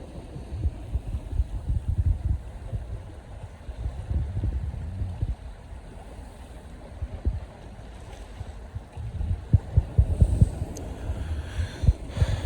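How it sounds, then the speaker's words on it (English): Strong wind buffets the microphone on a cold, exposed bay by the sea while fishing. It makes a steady low rumbling roar with gusty surges throughout, louder toward the end. "The wind has picked up."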